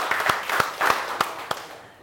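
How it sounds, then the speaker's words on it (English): A small audience at a vegan gathering gives the cooks a short, faint round of scattered claps, a few separate hand claps that thin out and stop. "We should give all the cooks a clap,"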